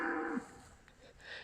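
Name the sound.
cows mooing in a French field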